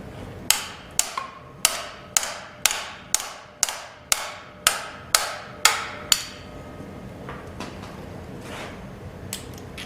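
Hammer blows knock plugs out of an engine block in a workshop, about a dozen sharp metallic strikes in a steady rhythm, close and loud, followed by a few faint clinks and quiet shuffling.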